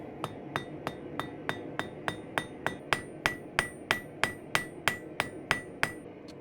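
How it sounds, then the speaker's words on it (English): Steady, evenly spaced hammer blows on hot steel at a forge ring out close by, about three per second, each a sharp bright clang over a low background rumble. "now I'll start by continually rotating this as I'm hammering, and it'll start to forge it round."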